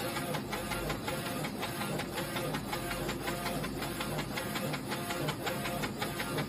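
A direct-to-film (DTF) printer lays down color ink and then a white backing layer, giving a steady, even mechanical whir with a faint rapid rhythmic ticking of the moving print head, constant and close with no talk.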